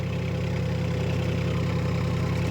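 A four-wheel-drive farm vehicle engine running steadily at low revs, a close, even rumble with a rhythmic low throb throughout.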